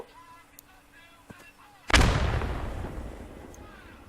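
A single loud blast from a thrown grenade during army basic training, sharp onset followed by a long rumbling decay outdoors, with faint voices and small noises beforehand.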